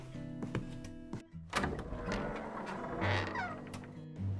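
Roy's pet cat Machim gives a faint meow amid soft household knocks and rustles, all heard quietly at a low level.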